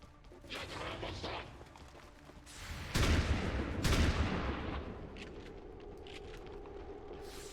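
Shotgun fire in XCOM 2 Long War of the Chosen: two heavy, booming blasts about a second apart, each trailing into a rumbling tail over quieter background battle noise.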